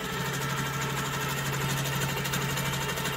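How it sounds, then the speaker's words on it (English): A Handi Quilter Amara ST stationary quilting machine stitching a small art quilt in manual mode, giving a steady, close mechanical hum with a fast rhythmic stitching pulse throughout, alone without talk. "I'm just going to do a little stitching on this little art quilt with my gloves"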